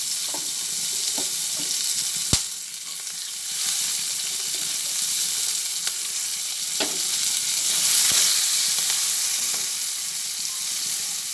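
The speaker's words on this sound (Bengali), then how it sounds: "এরপরে কড়াইয়ের তেলের মধ্যে কুচানো পেঁয়াজ কেটেছি পেঁয়াজগুলো দিয়ে দিলাম" Chopped onions frying in hot oil in a wok for an Afghani egg curry, with a steady loud sizzle throughout and occasional sharp clicks and taps of a spatula stirring.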